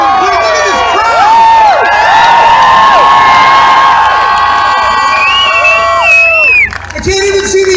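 A large crowd at a night rally outside the Trump International Hotel in New York cheers and whoops loudly and steadily, with voices shouting over the dense roar before it briefly dips near the end.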